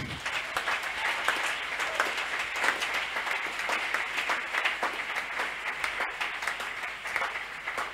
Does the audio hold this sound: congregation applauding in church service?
yes